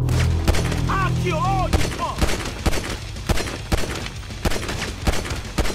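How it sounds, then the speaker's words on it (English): Shotgun fire in a GTA 5 horror mod, a rapid run of sharp, loud blasts that soon thin into scattered shots, with brief vocal sounds near the start. "She's a shotgun!"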